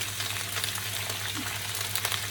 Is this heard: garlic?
yes